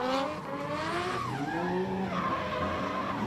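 Nissan drift car with an RB20 engine skidding during a sight lap at a South African drift event, tires squealing over a loud engine note that rises and shifts in pitch.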